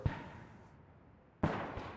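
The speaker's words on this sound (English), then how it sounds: "yet I'm still hearing gunfire in the distance" Distant gunfire in a war-film setting: a few dull, muffled shots, one at the start and another burst later, separated by a quiet stretch of low ambient rumble, with no voices.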